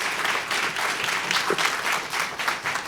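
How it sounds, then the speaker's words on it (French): An audience at a report launch applauds the speakers, a sustained wash of clapping from many hands at moderate loudness without a break. "On les applaudit."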